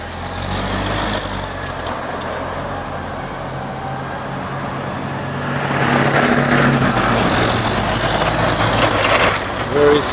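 Hyster S50FT 5,000 lb cushion-tire forklift with a GM Vortec 2.4 liter engine on LP gas runs steadily at close range, its low engine rumble rising slightly louder partway through.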